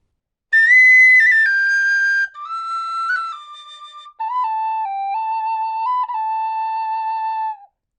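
A tin whistle plays the Braveheart melody at full speed: three quick phrases of bright, pure notes with brief breath gaps, descending to a held low note, solo and near.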